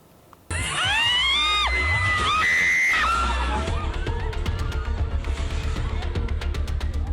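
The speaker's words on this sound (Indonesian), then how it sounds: "Jeritan histeris dan teriakan panik terdengar saat wahana ombak banyu di sebuah arena pasar malam tiba-tiba roboh." An ombak banyu fairground ride collapsing at a night market sets off sudden loud, chaotic screaming and panicked shouting from a crowd, shrill overlapping cries over a heavy rumble and a run of rapid clattering knocks.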